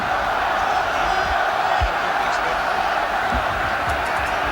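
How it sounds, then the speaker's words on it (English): A drenched, frozen rugby stadium crowd cheers and roars during a South Africa versus British Lions match in cold rain, a steady broad wash of distant voices with occasional louder shouts. "A little bit of encouragement from this drenched and frozen crowd."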